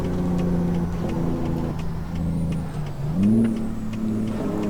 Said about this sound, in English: start that Jake brake action